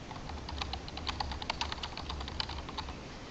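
Fingers type names on a computer keyboard in a steady run of quick, light key clicks, close and moderately loud over a low background hum.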